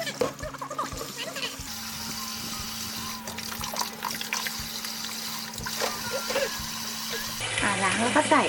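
Tap water runs steadily into a sink while limes are washed, a close, continuous trickle and splash with someone talking over it and a few clatters near the end.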